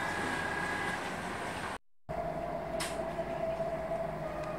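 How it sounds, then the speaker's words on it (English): Munich train ride with a steady rumble and a high running whine. The noise drops out briefly, then returns with a sustained tone and a short hiss. It stays close and continuous, with no speech. "So now we're jumping on the right train."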